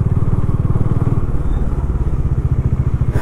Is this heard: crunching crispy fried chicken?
no